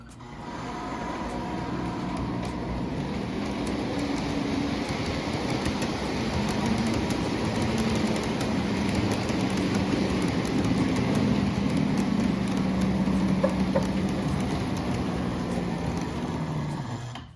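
A single-motored model train locomotive runs on a home layout, giving a steady, close motor whir and rolling rumble that holds even for the whole stretch with no talk.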